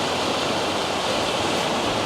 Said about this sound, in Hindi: देखिए चारों तरफ से पानी आ रहा है, खूब आ रहा है।